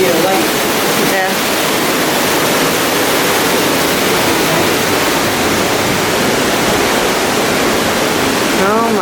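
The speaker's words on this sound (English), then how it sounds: "Look at that waterfall." Waterfall inside a dark resort cave tunnel at a Bahamas resort, a steady broad rush of falling water filling the space, with brief faint voices at the start and end.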